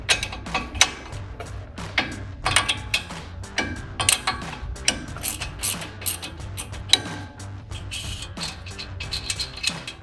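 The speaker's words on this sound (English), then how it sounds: "This will be done with a 3/4 inch ratchet or wrench." A 3/4 inch ratchet removing the upper control arm ball joint nut on a 2021-2025 Ford F-150: irregular close clicking bursts and metallic creaks in short repeated strokes.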